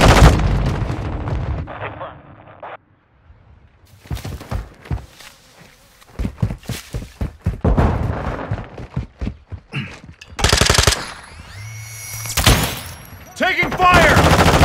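Gunfire in Call of Duty: Modern Warfare II, scattered loud shots and bursts from close and farther off, mixed with footsteps, impacts and game announcer voices.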